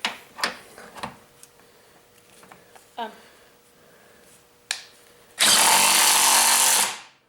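Bolts on coilover suspension being tightened with a power tool, heard as a loud, steady whirring burst of about two seconds near the end, preceded by scattered clicks, clanks and brief tool sounds.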